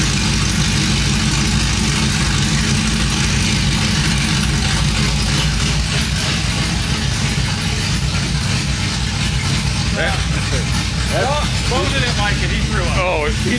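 A cammed 5.3 V8 Chevrolet Silverado engine with new long tube headers idles loudly and steadily with a lumpy, choppy rhythm, oil burning off the exhaust. Bits of speech come in near the end.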